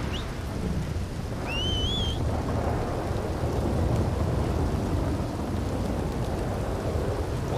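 Dense rain and low thunder rumble steadily in Red Dead Redemption 2, with a couple of short whistling bird calls early on above the constant downpour.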